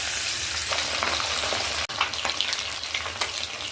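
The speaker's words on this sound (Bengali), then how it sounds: "এবার পাবদা মাছগুলো ভেজে নেব।" Pabda fish frying in hot oil in a pan, a loud continuous sizzle with crackling spatters and a brief sharp break midway.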